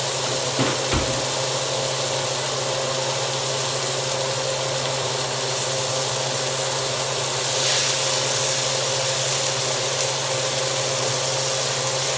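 Butter sizzling in a hot pan with a ribeye steak, a steady loud hiss and crackle that holds evenly throughout, with a soft knock near the start and no talking.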